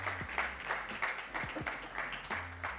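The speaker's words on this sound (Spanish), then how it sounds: "Aplauso" Applause at a pintxos semifinal, a fairly quiet patter of clapping that comes in loose bursts, mixed with a low hum and some tonal background sound.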